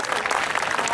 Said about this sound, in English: So give him a nice big round of applause.